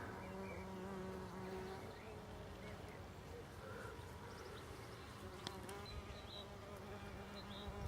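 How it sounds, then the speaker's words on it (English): A mason bee buzzing in a garden near bamboo canes, a faint, close, wavering hum that runs quietly throughout with small clicks and rustles. "So this is the mason bee"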